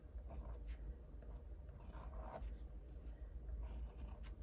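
Dark gray pen drawing over pencil lines on paper, a faint continuous scratchy rustle of the tip moving in short strokes, close and quiet with a low background hum.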